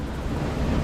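Strong wind blowing over a sailboat at anchor off the Solomon Islands, a loud, continuous rushing roar buffeting the microphone without a break.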